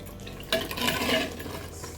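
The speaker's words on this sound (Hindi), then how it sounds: "मिक्स करेंगे सारा।" A spoon scrapes and clinks through boneless chicken handi in a pot, a short burst of stirring and wet, liquid sounds after a quiet moment, fairly soft and close with no talking.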